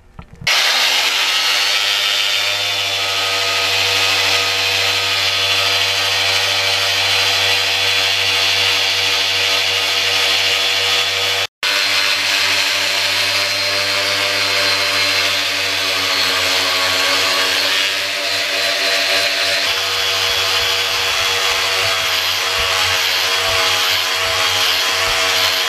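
A motorcycle fork tube from a Yamaha FZR restoration being sanded with 240-grit paper, heard as a steady, loud mechanical hum with a low drone throughout and one brief dropout near the middle.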